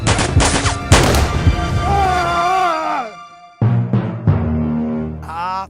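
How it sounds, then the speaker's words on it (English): Rapid bursts of staged gunfire for a film stunt crackle loudly, followed by heavy explosion booms and a descending whine, then more sharp blasts and impacts. "Gary Montana will face a hailstorm of bullets, multiple explosions"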